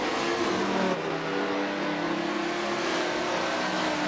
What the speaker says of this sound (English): Unmistakable V10 growl.